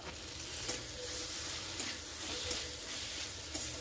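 Tomato masala with ginger garlic paste fries and is stirred in hot oil, producing a continuous close sizzle with soft, scraping stirs running through it.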